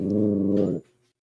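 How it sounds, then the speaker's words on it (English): A dog gives a single drawn-out vocal woo, a loud tonal howl-like note that holds steady and then cuts off abruptly, followed by a faint trailing sound and silence. "getting a woo from the dog there."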